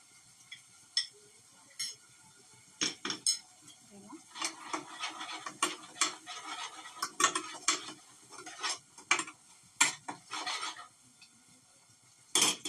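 Ground spice masala with turmeric being fried and stirred in a pan: irregular scraping strokes of a spoon against the pan come in bursts, close and fairly crisp, with a faint sizzle underneath.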